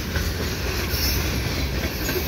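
A CN freight train rolls past around a curve at Sainte Anne de Bellevue, a steady loud rumble of rail cars with a clickety-clack of wheels and faint squeal throughout, close and continuous.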